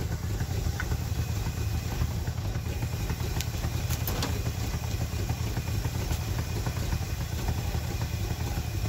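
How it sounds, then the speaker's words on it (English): A 1970 Ford Mustang Mach 1, first start in 30 years, idles with a steady, low rumble and a faint rattly clatter, no revving, running unchanged throughout. "It is idling."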